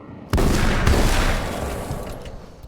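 A single heavy gunshot from the horror action game Alan Wake's American Nightmare, followed a moment later by a second boom, both close and loud with a long rumbling decay.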